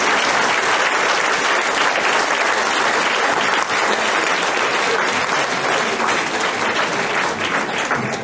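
An audience applauds an orchestral ensemble, the Orchestre Variation's du Pays Grand Combien, at a concert in Branoux. Dense, steady clapping fills the space loudly and without pause, with no voices standing out.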